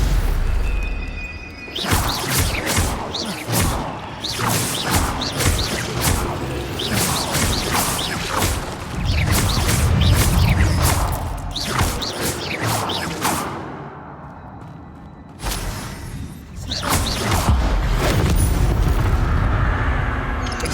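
Expelliarmus and Protego spell effects in a video game: a dense, loud run of booms, crackles and whooshing bursts coming in rapid succession, with a brief lull before another heavy flurry.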